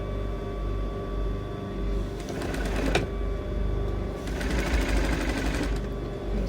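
A sewing machine runs steadily as it stitches the armhole lining of a sleeveless dress with a cap sleeve, its needle chattering at an even pace and speeding up in two short bursts.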